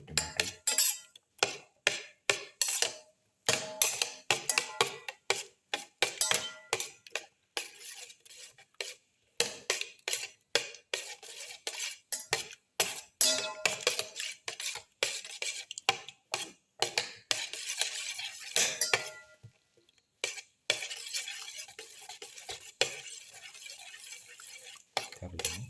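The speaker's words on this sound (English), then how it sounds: "Now keep on mixing and crush the ginger, garlic and the tomato." Ginger, garlic and tomato are mixed and crushed with a utensil in a pan, producing repeated close scraping and clacking strokes in irregular bursts with short pauses, over a faint sizzle.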